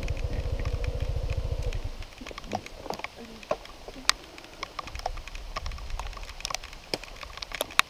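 Rain falls during a motorcycle ride on a rough, damaged mountain road between Ciwidey and Pangalengan; a motorcycle engine idles at first, then scattered raindrop taps and a steady wet hiss continue.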